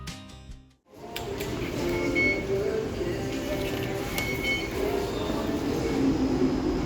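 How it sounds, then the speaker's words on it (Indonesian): Singapore MRT East West Line train riding one stop from Tanjung Pagar to Raffles Place, a steady rumbling carriage hum with occasional clinks and faint chimes, following a brief quiet moment. "aku akan naik MRT satu stasiun aja dari Tanjung Pagar menuju ke Raffles Place"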